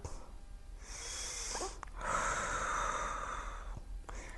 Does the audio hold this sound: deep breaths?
yes